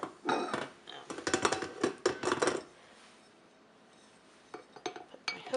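Flour and salt are stirred together in a bowl, giving bursts of scraping and clinking. A quiet pause follows before a few more scrapes, close and fairly soft.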